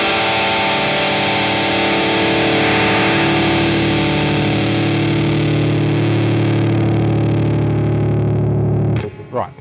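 An electric guitar plays through a Danelectro Cool Cat distortion pedal with the bass control turned up, giving a loud, sustained fuzzy chord with a thick, woolly low end that rings for about nine seconds before being cut off.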